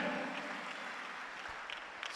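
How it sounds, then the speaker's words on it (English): Church congregation clapping in praise of Jesus, a faint, distant wash of many hands clapping steadily with no voices over it. "Give Jesus a clap of prayer."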